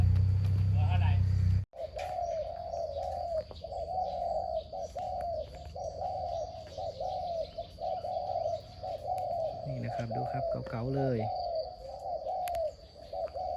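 Old decoy doves kept at a bird camp coo in steady, long repeated calls at middle distance, with a few higher chirps near the end, while someone talks briefly at the start over faint outdoor background noise.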